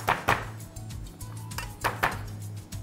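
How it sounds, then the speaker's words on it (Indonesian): Garlic being minced with a knife on a board, a series of irregular close knocks and chops, some in quick pairs. "Oke, lalu kita cincang."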